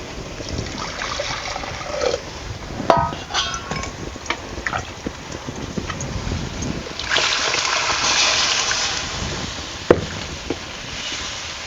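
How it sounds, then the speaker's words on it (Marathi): Hot water is poured into a spicy Solapuri bazaar-style amti curry and stirred, producing splashing and trickling with occasional sharp utensil clinks against the pot, close and without speech. "थोडंसं आपण गरम पाणी घालून आहे ना पूर्ण सगळं असं ढवळून घालायचं"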